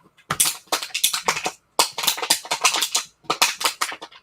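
A dog chews on a crinkly plastic tea bottle, making loud, close bursts of crackling and crunching that come in three rapid clusters with brief pauses between them.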